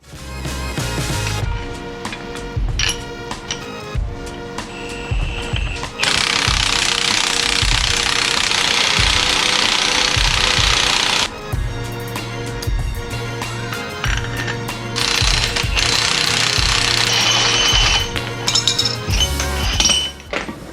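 Long extended lug nuts being installed on a Honda Civic, close metallic clinks and rattling taps alternating with sustained loud buzzing from a power tool.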